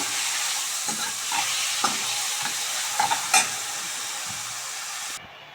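Tempering spices for tomato rasam fry in a pan with a steady close sizzle, broken by a few stirring clinks and scrapes before the sound cuts off abruptly.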